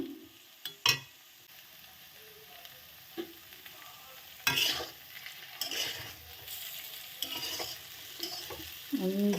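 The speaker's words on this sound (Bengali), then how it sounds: "ডিমটা দিয়ে দিলাম, দিয়ে এখন আমি এটাকে ভেজে নেব" Egg and paneer fry in a pan while a spoon stirs, giving intermittent scraping clatters over a low, steady sizzle, with a few sharper knocks of utensil against the pan.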